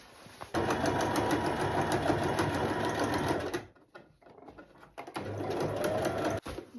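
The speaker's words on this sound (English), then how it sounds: "as I'm covering it, I am running a stitch here gradually until I get to the end" A sewing machine runs a stitch along a skirt in a loud, steady whirring run. It stops briefly, then starts again close by.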